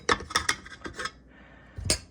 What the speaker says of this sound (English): I'm just gonna stir this in and slowly add the rest of those 4 cups.